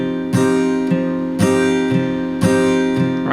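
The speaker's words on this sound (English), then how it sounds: "what I'm doing is one full strum, and then a softer strum" An acoustic guitar is down-strummed in a steady alternating pattern, each full ringing strum followed by a softer, lighter strum on the lower strings, repeating about three times, close and clear with no talking.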